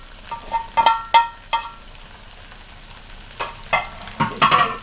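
A sturdy wooden spoon stirring thick chicken spaghetti in a pan, several short scraping strokes in uneven bursts over a faint sizzle, close and clear with no talk.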